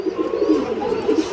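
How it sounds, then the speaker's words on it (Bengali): A pair of Lahori pigeons, male and female, give continuous low rolling coos at close range in a steady, overlapping rhythm. "এই তো দেখতে পাচ্ছেন এখানে আরও এক জোড়া লাহরি কবুতর"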